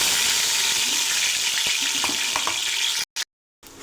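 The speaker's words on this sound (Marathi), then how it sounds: "आता हे आपण टोमॅटो वाटून घेतले ते ह्याच्यामध्ये घालून घेऊ." Ground tomato paste frying in oil in a heavy pot over high flame for chicken dum biryani, a steady close sizzle with faint stirring scrapes before the sound abruptly cuts out.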